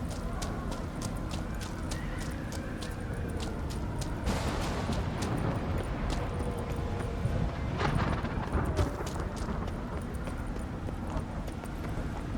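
Hooves of a donkey in the video game The Witcher 3 clip-clop in a steady, even rhythm over a low ambient game background, fairly quiet, with no talking.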